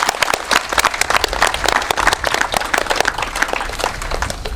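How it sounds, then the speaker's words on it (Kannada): Loud, dense audience applause at a Kannada drama festival performance, many hands clapping rapidly and continuously close by with a crowd feel throughout. "ನಿವೇದಿತಾನಂತವ್ರಿಗೆ ಜೋರಾದ ಚಪ್ಪಾಳೆ ಬರೋದು."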